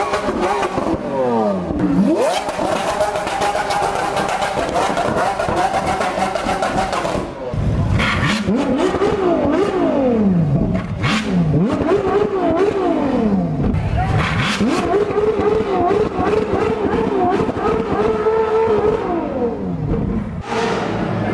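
Lamborghini Aventador revving repeatedly at an exotic car show in Monterey, loud rising and falling engine sweeps in several bursts amid crowd noise.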